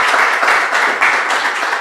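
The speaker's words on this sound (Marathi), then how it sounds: "एक जोरदार टाळ्या होऊ देत" An audience at a public talk breaks into strong applause, a loud, steady patter of many hands clapping at once that carries through the whole short moment.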